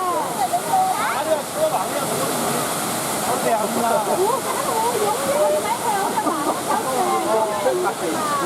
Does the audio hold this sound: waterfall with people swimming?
yes